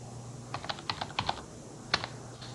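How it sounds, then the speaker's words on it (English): A password is typed on a computer keyboard: a short run of quick, quiet key clicks, a brief pause, then a couple more presses over low room hum. "so I'm going to enter my password here"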